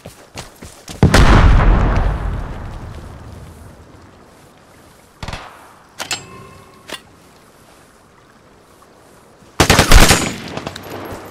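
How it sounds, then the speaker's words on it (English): Grenade exploding in the shooter game Vigor: a loud, close blast with a long rumbling decay early on, then a few scattered shots or bangs and another loud burst near the end, with no talking. "Throwing a grenade."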